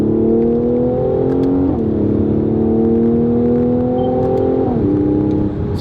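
A 2018 Mercedes-AMG C43 Coupe 4MATIC engine revs steadily with a smooth, sustained drone, its pitch dipping and shifting twice as the revs change, heard up close and alone.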